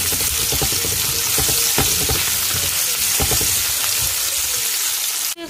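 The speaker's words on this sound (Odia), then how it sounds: "ଏବେ ପିଆଜ ବି ଭାଜିଦେବା" Onions sizzle steadily in hot oil with a little salt while cooking an Odia potato, eggplant and badi curry, a close, continuous crackling fry that never lets up, with a few sharper pops and spatters and no talking.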